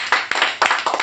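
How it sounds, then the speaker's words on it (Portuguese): A church congregation claps hands in a brief burst of several sharp, close claps. "Você pode dar uma salva de palmas para Jesus?"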